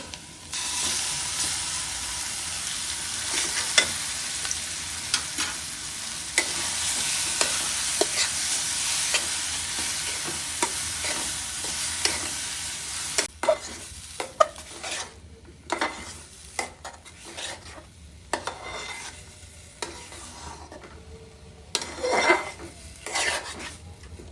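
Pumpkin frying in a pan for a luchi recipe: steady sizzling hiss for the first half, then clattering spatula scrapes and stirs against the pan, close by, with no speech.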